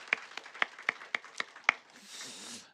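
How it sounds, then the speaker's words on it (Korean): A church congregation welcoming newly registered members during a Sunday service in Namyangju, South Korea, with a few sparse, distinct hand claps that dissolve into a soft wash of applause fading out. "박수하겠습니다."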